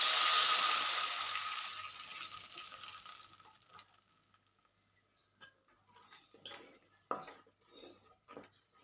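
Strained tamarind water poured into a pot for a Tamil kuzhambu, a steady liquid rush that fades over about four seconds, followed by scattered clinks and scrapes of a spoon stirring in the pot.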